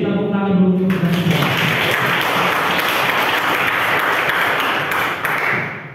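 Students in an eleventh-grade vocational school class at an anti-corruption awareness session break into loud, dense applause that fills the room and holds steady, after a brief moment of chanting voices at the start.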